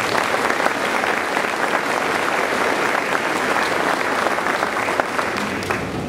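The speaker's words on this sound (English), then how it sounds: "Let's give them a round of applause." Loud, sustained applause from a large crowd at an elementary school Grandparents Day event, dense steady clapping that continues without pause for several seconds.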